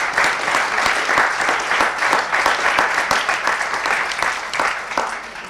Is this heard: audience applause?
yes